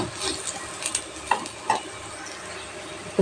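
Onions frying in a pan with curry leaves for a green sambar, soft sizzling under a spoon stirring and clinking against the pan in short irregular scrapes, with no talk.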